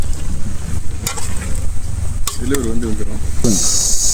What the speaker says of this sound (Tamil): இனிமேல் தானே அந்த தக்காளியும் கறியும் போட்டு வதக்கு வதக்குன்னு வதக்கணும்